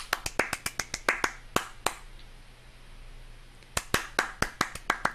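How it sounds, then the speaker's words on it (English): Bare hands clap sharply right beside the microphone in a quick, uneven run of loud, crisp claps, then a short pause with faint room noise before another fast burst of claps. "I'm having to clap right now, right next to the mic in order for it to pick it up."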